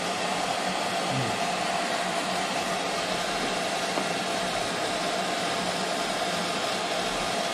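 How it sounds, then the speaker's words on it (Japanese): A hair dryer blows steadily in a hotel room at the Hyatt Centric Ginza Tokyo, a loud, constant airy whoosh with a motor whine that runs unbroken and close. "十分なドライヤーでございました"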